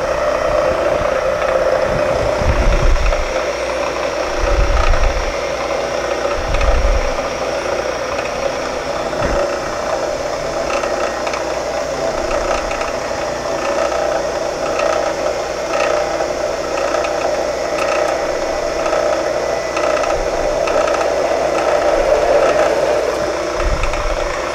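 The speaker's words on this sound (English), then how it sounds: "And turn on the drill press." A drill press drilling with cutting fluid runs with a steady mechanical hum and light rattling, broken by a few low thumps early on.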